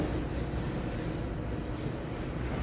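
Spray detailer misted onto a Harley-Davidson engine, a steady close hiss running throughout with a few brief bursts early on, no talking.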